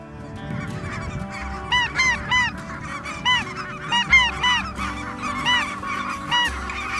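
Geese coming in to motion decoys on a Saskatchewan hunt honk repeatedly in overlapping calls, growing louder and busier as the flock draws close, with a low steady rumble underneath.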